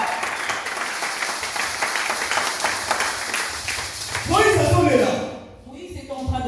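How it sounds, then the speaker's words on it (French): A church congregation breaks into sustained applause praising God, a loud close wash of clapping that swells and then fades, with voices cheering and a speaker's voice rising over it near the end. "Nous pouvons acclamer Dieu."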